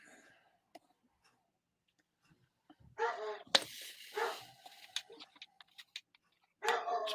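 A dog barks in a home while a live NHL hockey game between the Montreal Canadiens and New York Islanders plays. A few sharp barks, then more later, sound close, mixed with clicks and scattered noises.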